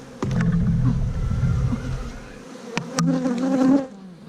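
Honeybees buzz around an open hive during an inspection with a queen cell: a close, droning hum that swells and dips, with a brief gap before the buzzing resumes.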